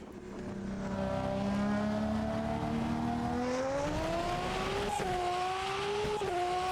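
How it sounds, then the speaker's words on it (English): Race car engine in the Automobilista 2 sim racing game, a steady high-pitched whine that climbs in pitch through the gears with short shift dips near the end, loud and continuous with no talk. "So people have been complaining about the engine noise, that it has changed."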